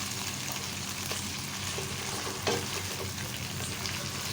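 Chicken tikka biryani masala frying in a pan, a soft steady sizzle with a few scraping stir strokes, quiet and without voices.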